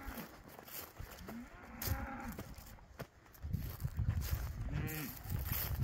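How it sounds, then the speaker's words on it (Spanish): A cow on a farm lets out several drawn-out moos, the lowing calls rising and falling close by with a rumbling low bellow toward the end, with no talking over them. "Pobrecita vaca."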